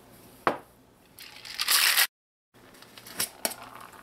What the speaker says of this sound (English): and give it a shake.